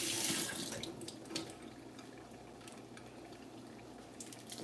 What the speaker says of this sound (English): I'm gonna wash the cilantro.